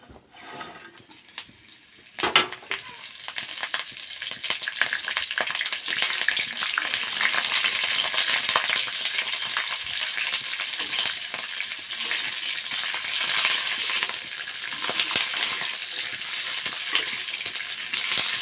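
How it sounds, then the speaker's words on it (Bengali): Green chillies dropped into hot oil in a kadai, already holding fried nigella seeds, crackle after a brief quiet start, then a loud, steady, close sizzle of frying that runs on without any talk. "মরিচগুলো অল্প ভাজা ভাজা করব"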